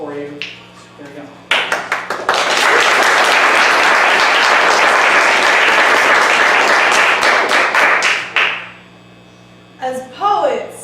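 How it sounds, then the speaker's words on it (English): Audience applause for poets at a live performance, beginning with scattered claps that swell into a loud, dense, sustained ovation lasting several seconds before tapering off, with a voice speaking at the start and end. "Nobody wants to stop clapping for you."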